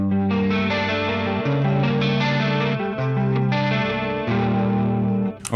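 A clean electric guitar played through a Jens Bogren impulse response, with sustained chords and arpeggiated notes ringing with chorus-like shimmer, fairly loud and alone.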